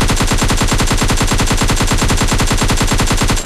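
Automatic gunfire in PUBG Lite: a loud, continuous rapid burst of evenly spaced shots that fills the whole moment without a break.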